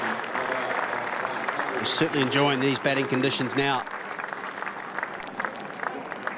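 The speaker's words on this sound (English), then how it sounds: "It's a warm applause from the crowd." Warm crowd applause at a New Zealand versus South Africa cricket Test match after a batsman's fifty, steady clapping from the stands running under a commentator's voice throughout.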